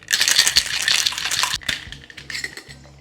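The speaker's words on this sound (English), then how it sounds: "Going to wet shake with ice." A cocktail made with raw egg is shaken hard with ice in a shaker, giving a dense, rapid rattle of ice against the tin that fades near the end without any talking.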